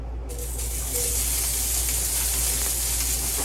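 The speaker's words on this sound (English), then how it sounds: "Fry up some sausage." Sausage fries in a pan with a steady, dense sizzle and hiss that stays loud and unbroken from start to finish, heard close up with no voices.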